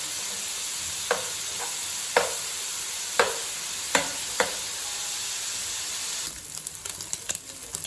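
Prawns, cut in two, frying in a pan with a steady, even sizzle throughout, punctuated by a few sharp clinks of stirring; toward the end the sizzle grows more crackly and busy.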